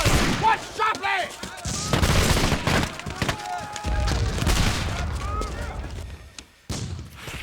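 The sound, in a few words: artillery barrage and gunfire during a siege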